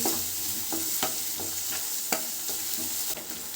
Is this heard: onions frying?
yes